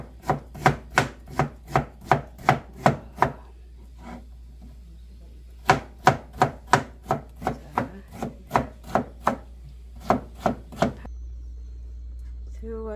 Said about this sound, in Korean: 채칼 수준의 칼질을 하고 있습니다.